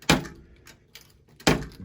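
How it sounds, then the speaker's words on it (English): Glass cover of a Stranger Things pinball machine being handled and lifted off, giving two sharp rattling clunks about a second apart with a faint knock between them, close up. "Okay, we got the glass off."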